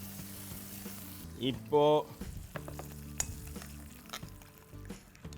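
Hot tempering of cumin and curry leaves is poured over curd for South Indian thayir vadai, a brief sizzle and spatter followed by clinks of a spoon mixing in the bowl, with a short spoken word.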